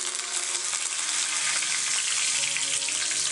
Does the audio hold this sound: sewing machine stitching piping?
no